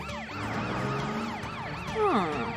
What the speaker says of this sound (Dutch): De sirene zal het spook afschrikken en Carrie en Jerry naar je toe leiden.